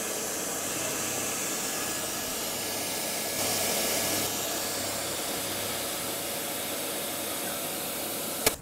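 A milling machine takes a light 0.25 mm cut along a rough-sawn steel gib blank, giving a steady, fairly quiet hiss-like machining drone that swells briefly midway and ends with a sharp tap.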